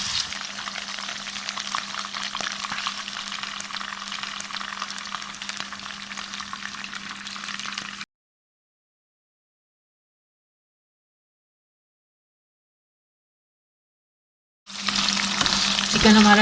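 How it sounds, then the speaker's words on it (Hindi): Steady, loud sizzling of chicken frying in a pan for chicken salan until lightly golden, continuous for several seconds, then a silent gap before the sizzle returns. "चिकन को हम इतना फ्राई करेंगे कि इसकी वाइटनेस ख़त्म हो जाए"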